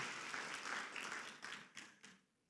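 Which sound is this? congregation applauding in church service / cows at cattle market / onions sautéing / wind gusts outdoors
congregation applauding in church service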